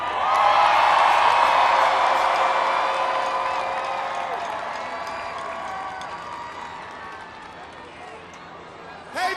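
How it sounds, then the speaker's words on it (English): A large outdoor crowd at Philadelphia's Villanova NCAA championship victory parade roars and cheers for coach Jay Wright, loud at first and then fading gradually, with scattered clapping and whoops and voices mixed into the din. "Let's give him a good round of applause,"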